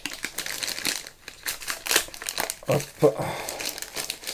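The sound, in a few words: opening a plastic sachet of playing cards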